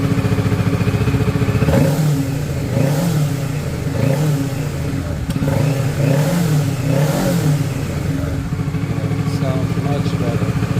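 A 2023 Kawasaki Ninja 650 ABS KRT Edition motorcycle engine starts and revs repeatedly in loud rising and falling surges, settling into a rough idle between throttle blips.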